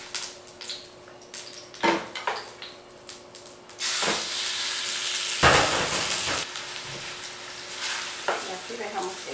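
Meat hitting about two spoonfuls of hot oil in a casserole pot for picadillo ranchero, first quiet with a few clanks, then a loud sustained sizzle and hiss broken by sharp bursts and utensil knocks.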